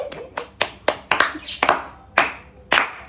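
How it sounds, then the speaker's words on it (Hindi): Eight sharp hand claps at an uneven pace, close and distinct, each one a crisp slap with a brief decay, with no voices over them. "ताली बजा बेटा"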